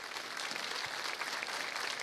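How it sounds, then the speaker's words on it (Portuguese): A church congregation applauds during a sermon, a dense, even patter of many hands clapping at moderate volume for the whole stretch, with no speech over it. "você pode aplaudir isso"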